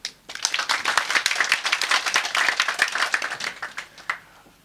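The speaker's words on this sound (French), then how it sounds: "Je voudrais qu'on applaudisse pour les femmes." An audience claps for the women at a mining company's community event, a dense burst of applause that starts abruptly, holds steady for several seconds, then thins out and stops.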